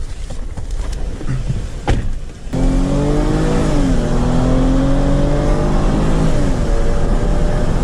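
A high-speed RC car's electric motor lets out a loud, rising and falling whine that drops in pitch as the car races away, after a couple of seconds of rustling outdoor noise.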